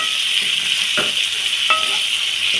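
A spoon stirs salt and curry leaves through chutney in a pan over steady frying sizzle, with a few distinct scraping strokes against the metal; no one speaks.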